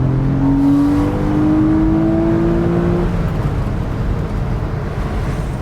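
A Porsche 986 Boxster S with a 3.2 engine revs up in one rising pull, then the pitch levels off into a steady loud drone, close by with no talking.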